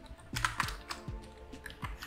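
Typing on a computer keyboard, a few separate key taps spaced irregularly over about two seconds, close and fairly quiet with no talking.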